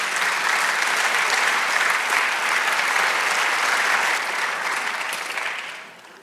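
Spanish-speaking church congregation giving loud, sustained applause, a dense crowd of clapping hands that holds steady and then fades out over the final two seconds, with no voices.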